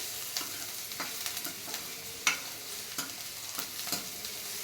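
Onion sautéing in a pan for homemade vermicelli gives a steady close sizzle, with repeated soft scrapes and clicks of stirring and one sharper clink partway through, no voices.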